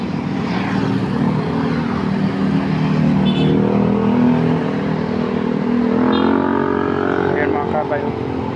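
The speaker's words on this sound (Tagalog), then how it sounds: "Medyo marami pang sasakyan." Road traffic of cars and motorcycles at a street crossing, a constant loud engine rumble with vehicles passing close by, while someone talks over it.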